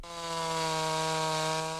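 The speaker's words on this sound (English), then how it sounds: "Chainsaws are sounds of comfort to those whose yards are full of old trees" A chainsaw cuts through storm-damaged trees in a yard, a steady, close, buzzing engine drone that holds at an even pitch throughout the short stretch, with no talk.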